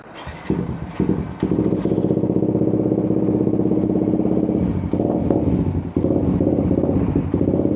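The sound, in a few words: motorcycle with aftermarket exhaust sputtering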